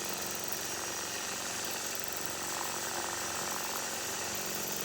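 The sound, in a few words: sewing machine free-motion quilting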